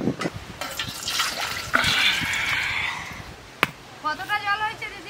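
Coconut water splashes and pours in a kitchen while ice cream is being made, a close, bubbly liquid rush with a couple of sharp knocks, mixed with people talking.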